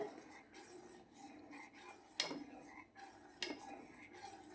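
A spoon scrapes and clinks against a pot of simmering milk with dates, almonds and walnuts, giving irregular metallic taps and a few sharper knocks over several seconds, close and fairly clear.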